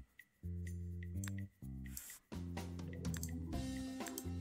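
The water tool in The Sims 2 gives a series of bubbly, drippy, tonal liquid effects, several short watery bursts in quick succession, close and clean with no talking.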